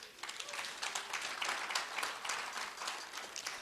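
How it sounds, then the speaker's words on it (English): An audience at an African culture night out applauds, a faint, distant patter of many hands clapping steadily without pause. "If you're African, come and clap for yourself."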